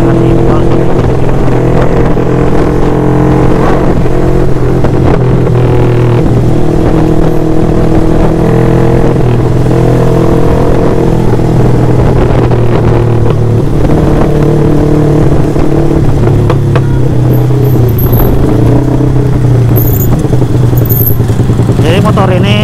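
A loud motorcycle engine with an Aero Pro Race racing exhaust idles and revs steadily with a deep, throaty exhaust rumble throughout, close and continuous.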